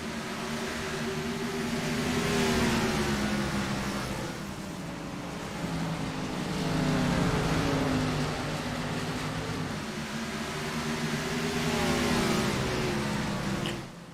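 Stock car race engines roar on the oval track at North Wilkesboro during a Cheerwine 200 event, a continuous layered drone that swells and fades in waves as cars pass, loud and steady throughout with no talk.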